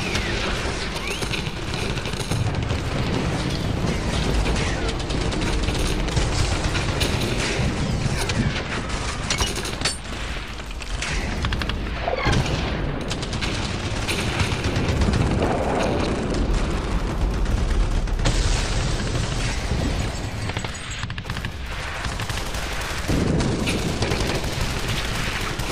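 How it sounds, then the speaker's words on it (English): Dense battlefield din from the Men of War game: rolling Katyusha rocket barrages, booming impacts and rattling gunfire overlap continuously and loudly throughout. "They're barraging me with Katyushas, so I need to return the compliment with my own rockets."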